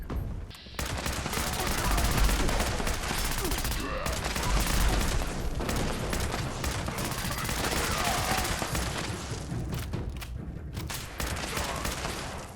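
Dense, continuous automatic gunfire from a commando stealth build in Fallout 76, rapid shots rattling nonstop at close range for the whole stretch.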